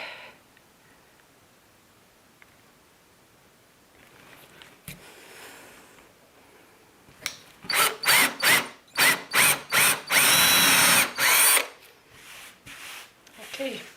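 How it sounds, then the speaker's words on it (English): A drill press bores into a workpiece in short loud bursts after a quiet stretch, the motor whining up and cutting in several repeated pulses close by. "you can now drill these with the drill machine, the top to bottom driller, column drill or something"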